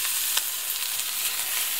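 Liver frying in a pan is stirred, giving a loud, steady sizzle with a brief scrape of the utensil, heard up close with no talk.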